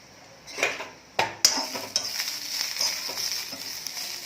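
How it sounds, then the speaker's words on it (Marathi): Farm garlic and green chillies sautéing in a pan for a Maharashtrian thecha produce a soft, continuous sizzle, broken by a few sharp clinks and scrapes of a spoon against the pan early on, with no speech. "तर आता आपण याला 1 ते 2 मिनिटं असं थोडंसं परतून घेणार आहोत"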